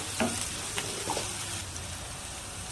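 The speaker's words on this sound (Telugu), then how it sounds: "ఇప్పుడు ఇందులోనే హాఫ్ టీ స్పూన్ నల్లం వెల్లుల్లి పేస్ట్ కూడా వేసి పచ్చివాసన పోయేంత దాకా ఒక రెండు నిమిషాలు బాగా ఫ్రై చేసుకోండి" Garlic paste frying in oil in a pan while being stirred for a Telugu bottle gourd curry, a steady low sizzle with a few faint spoon scrapes throughout.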